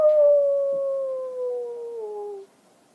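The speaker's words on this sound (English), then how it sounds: "He howled instead, very loudly." A dog howls loudly in one long, sustained wail that slowly falls in pitch over about two and a half seconds, then stops abruptly, leaving near silence.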